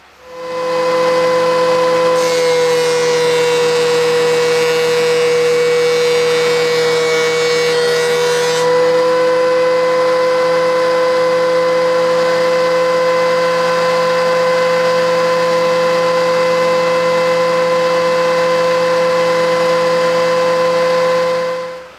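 A thickness planer set to a half-inch depth feeds a board through with a loud, steady motor whine and a rough cutting hiss that rises for a few seconds and then fades while the motor keeps running.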